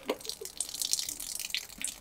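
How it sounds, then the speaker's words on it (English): Water draining out of an opened manifold on an IBC tote water storage tank, a steady close splashing, trickling flow with small drips, heard alone. "we just opened that manifold up and you can see the water leaving"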